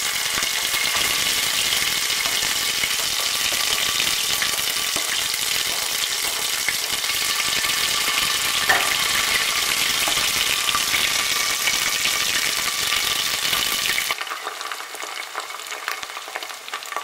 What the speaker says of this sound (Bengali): এর মধ্যে আমি পেঁয়াজ বাটাটা দিয়ে দেব।